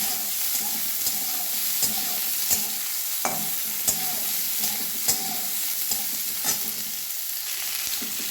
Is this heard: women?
no